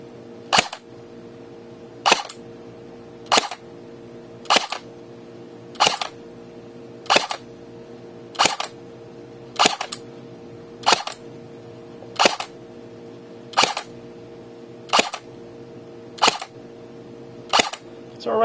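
An ICS Galil airsoft rifle with a Turbo 3000 motor fires Javelin .20 gram BBs indoors at a chronograph, one sharp crack at a time. Fourteen single shots land at roughly even intervals over a steady low hum.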